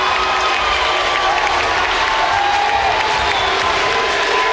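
An irate home crowd at a basketball game roars steadily after a technical foul, with loud, dense shouting and cheering filling the whole stretch without letup.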